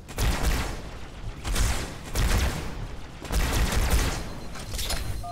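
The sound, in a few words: gunfire in the video game Halo 2 Anniversary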